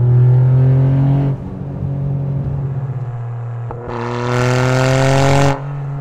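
A Toyota GR Yaris with a titanium exhaust revs under acceleration, its loud, close engine note holding, dipping briefly, then climbing again to a harsher, brighter roar before easing off.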